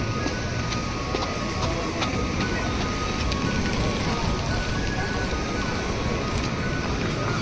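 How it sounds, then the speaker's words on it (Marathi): Rain falling outdoors on a city street in Kiel, Germany, a dense, even patter on surfaces that holds steady and fairly loud throughout, with no voices. "पाऊस गळायला सुरुवात झाली आहे."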